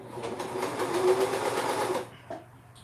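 A serger sewing machine runs fast along a t-shirt seam, a rapid whirring, clattering stitch for about two seconds that then stops, followed by a faint click, close and without talk.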